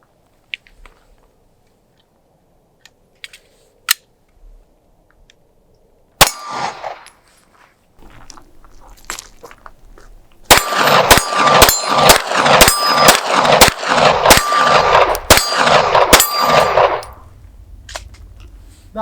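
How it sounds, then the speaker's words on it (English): Rapid pistol shots with 115 grain rounds through a ZEV V2 Pro compensator on a Gen 5 pistol: a few scattered loud reports, then a fast close string of about ten sharp cracks with metallic ringing. "let's go ahead and run a good 10 rounds of 115 grain"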